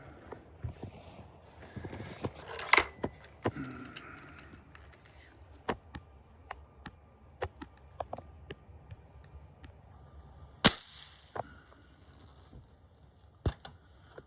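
A Walther Parrus .22 caliber air rifle fires a series of sharp, short shots, spaced irregularly over several seconds at moderate distance, with one louder crack near the end and faint background noise between.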